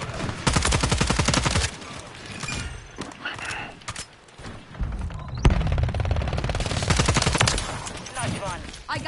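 Rapid gunfire and explosions in Modern Warfare 3, loud bursts of automatic fire and impacts layered under a player's excited talk.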